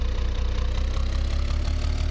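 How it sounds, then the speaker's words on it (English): Single-barrel eco carburetor car engine idling with a steady, low, throbbing rumble, close and continuous throughout, with no voices present. "Oh, you hear that low end and idle?"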